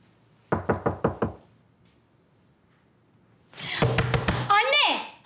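Five quick, sharp knocks land on a door, followed by a pause, then a voice speaks loudly, overlapping a few more knocks.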